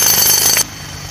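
Rock being drilled for a hanging water tank build in a mountain valley, a loud continuous grinding rattle that cuts off abruptly partway through, leaving faint background hiss.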